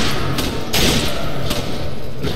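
Shotgun blasts in the survival horror game Resident Evil 5, a few heavy thumping reports spaced unevenly over a loud, continuous background rumble.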